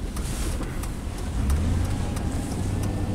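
A GM truck engine with misfiring cylinders runs under throttle, a close, steady low rumble with faint ticking and a slight rise in revs partway through, with no talking.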